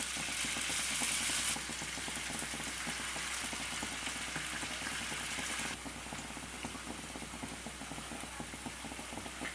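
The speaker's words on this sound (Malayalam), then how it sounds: "ഇതിലേക്ക് നമുക്ക് മാരിനേറ്റ് ചെയ്ത് വെച്ച് ഈ ഒരു കോളിഫ്ലവർ ഇട്ട് കൊടുക്കാം കേട്ടോ" Marinated cauliflower frying in hot boiling oil for gobi fried rice, a steady even bubbling sizzle at moderate distance, continuous and fairly soft with no talk.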